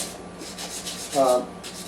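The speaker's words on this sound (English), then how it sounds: "I'm lightly sanding a radius on the side of the back side of the saddle." A bone guitar saddle is lightly sanded to a radius on its back side. Close, gentle rubbing strokes repeat evenly, with one louder, harsher scrape partway through.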